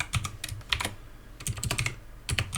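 Computer keyboard typing in quick bursts of clicky keystrokes, close and fairly loud, with short pauses between runs of keys and no voices.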